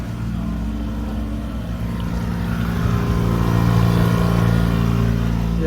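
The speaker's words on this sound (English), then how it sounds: "we have the trolling motor running right now" A small electric trolling motor drives a 1992 Jetcraft 19-foot boat near a dock and ramp, giving a steady low hum with water wash that holds even and close throughout, with no voices.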